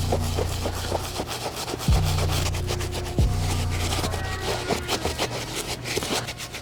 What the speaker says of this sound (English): So we'll be using the soft bristle brush to take care of it.